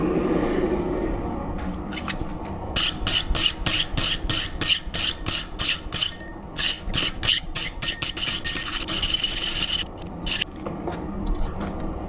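A hot hand-forged steel marking knife is brushed hard with quick, even rasping strokes in a regular rhythm, close and loud, with steady workshop noise behind and no talk.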